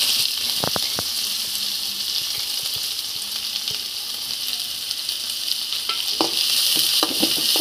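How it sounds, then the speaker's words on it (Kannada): Finely chopped onions fry in hot oil for egg rice, giving a steady, close hiss of sizzling with a few light stirring clicks. "ಈಗ ನಮ್ಮ ಎಣ್ಣೆ ಕಾದಿದೆ, ಅದಕ್ಕೆ ಸಣ್ಣದಾಗಿ ಕಟ್ ಮಾಡಿರುವಂಥ ಈರುಳ್ಳಿಯನ್ನು ಹಾಕ್ಕೊಳ್ಳೋಣ."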